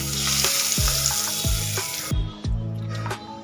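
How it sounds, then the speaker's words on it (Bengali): Hot tadka of oil and Kashmiri red chilli powder poured onto a yogurt mixture, giving a loud, dense sizzle that cuts sharply about two-thirds through, with a few dull spoon taps and clinks throughout. "এইবার এই তড়কা যাবে এই দইয়ের মিশ্রণের ওপরে।"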